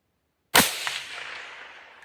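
One suppressed rifle shot fired during scope setup, a sharp single crack that cuts in after half a second of silence and then fades in a long, trailing decay, fairly close and alone.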